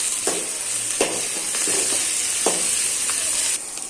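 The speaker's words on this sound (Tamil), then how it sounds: "ஒரு பெரிய தக்காளி இதையும் போட்டு நல்லா வதக்கிடலாம்" A large tomato sautés in a hot pan for vada curry, giving a steady loud sizzle with several brief scraping stirs spread across the few seconds, and no talking.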